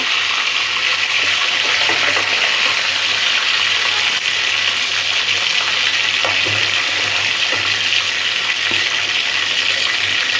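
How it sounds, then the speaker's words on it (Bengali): Pieces of roast chicken frying in hot oil give a continuous close sizzle with faint crackles and occasional soft scraping from stirring. Nobody speaks. "দেখছেন কত সুন্দর করে আমি ভাজছি"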